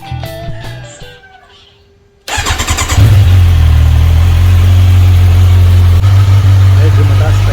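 Kawasaki Versys 1000 SE motorcycle fitted with an Akrapovic slip-on exhaust cranks and fires up after a quiet pause, then settles into a loud, steady, close-up idle with a deep throb and no talk over it.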